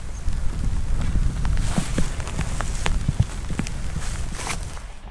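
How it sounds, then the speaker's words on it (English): Steady rain in the Scottish Highlands patters on surfaces with scattered sharper drips, a close, continuous wash of drops with no talking. "But today it's very quiet. And a bit rainy."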